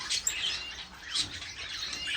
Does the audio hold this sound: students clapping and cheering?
no